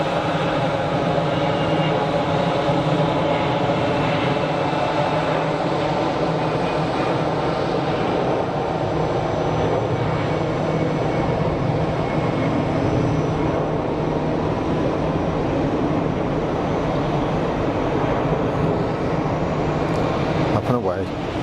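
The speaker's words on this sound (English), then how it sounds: "Leisurely takeoff roll." A passenger airplane rolls for takeoff at Geneva Airport, a loud, steady engine roar with a broad rumble holding constant throughout, heard from a distance outdoors.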